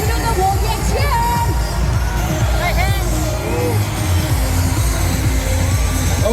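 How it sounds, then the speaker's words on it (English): A large crowd at the Padang during a National Day Parade show chants and cheers together in a loud, continuous wall of voices, with scattered shouts and whistles rising above the dense outdoor babble. "let's get ready to do the warrior cheer"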